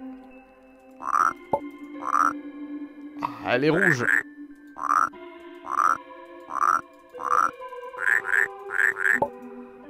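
Frogs croak in the puzzle video game Rusty Lake Paradise, loud ribbity calls repeating about every second, some in quick pairs, over a soft game drone while someone speaks French briefly.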